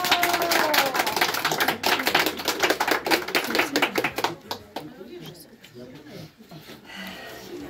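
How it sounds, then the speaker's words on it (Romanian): A small group claps at a surprise 60th birthday celebration in the village of Podgoreni: brisk, close clapping for about four seconds that thins to scattered claps with voices underneath. "Aplauze!"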